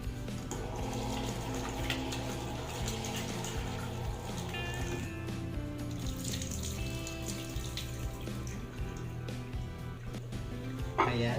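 Radish is washed under a running kitchen tap, with a steady close water stream and handling clatter throughout, and a person talking over it.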